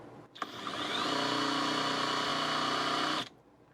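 A Hyper Tough impact wrench spins up at high speed after a click, holding a loud steady whirring whine for about two seconds before cutting off abruptly, with no voices.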